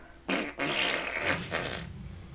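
A single fart, starting abruptly with a short burst and then stretching into a longer, sputtering, uneven blast that fades out after about two seconds, close and loud.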